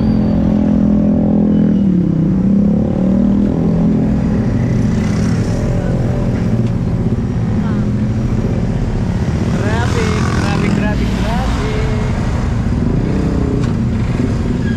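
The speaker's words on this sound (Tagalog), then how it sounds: "Maraming sasakyan ngayon dahil bagong taon, no?" Road traffic with many cars passing on New Year's Day in New Zealand, a steady engine rumble and passing vehicles beneath people talking.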